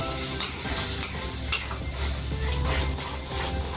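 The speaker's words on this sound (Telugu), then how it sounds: "కొంచెం అట్లా ఇట్లా తిప్పితే మిక్సింగ్ అవుతుంది" Six eggs stirred and mixed in a hot pan for egg palayam in a home kitchen, a steady sizzle with repeated scraping strokes of a spoon against the pan, close and continuous.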